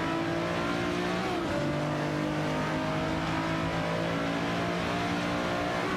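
Race cars in a racing video game, including a Jaguar XKR GT3 and a Dodge Viper GT2, roar with loud sustained engine drones whose pitch shifts during the run, with several cars blending together at close range and no voices.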